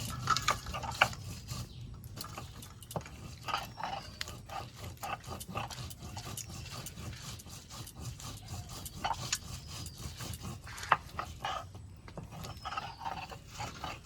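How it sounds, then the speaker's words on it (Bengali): Boiled eggs being peeled by hand in a kitchen, soft crackling and scraping of shell with small sharp clicks scattered unevenly, quiet and close, no talking. "সেদ্ধ করা ডিমগুলো আমি এখন ছাড়িয়ে নেব।"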